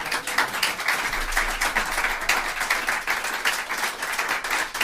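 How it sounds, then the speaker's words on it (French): A crowd claps steadily for the full stretch, a dense and even patter of many hands at moderate loudness with no break and no voices standing out. "Applaudissements."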